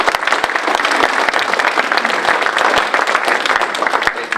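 Audience at a chamber of commerce breakfast meeting gives loud, sustained applause, a dense rattle of many hands clapping close by for several seconds with a faint crowd murmur underneath.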